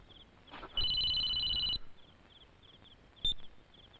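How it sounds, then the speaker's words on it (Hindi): A telephone rings in an indoor film scene: one sustained electronic ring burst, then a short second chirp, fairly quiet against a faint room hiss. "दुष्यंत का फोन है।"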